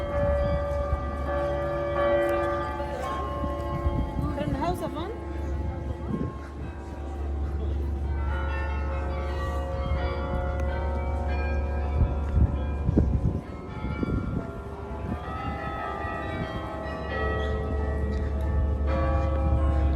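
Church bells ring out in a sustained, layered peal of overlapping chimes, loud and continuous over a steady low rumble for the whole stretch.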